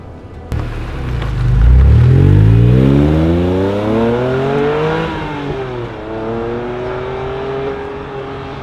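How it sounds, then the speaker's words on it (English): A Honda NSX Type-R's naturally aspirated engine revs hard, pitch sweeping up through the range, easing off and climbing again, loud and close with no voices. "the engine is a revvy thing that sounds spectacular"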